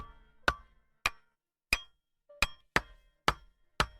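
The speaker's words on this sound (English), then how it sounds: "he hammered them into the ground one by one with the axe" An axe drives sharpened wooden pegs into snowy ground outdoors in a series of seven sharp, separate knocking blows. The strikes come at uneven intervals and stand clearly alone against silence.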